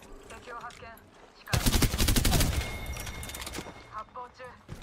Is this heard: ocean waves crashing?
no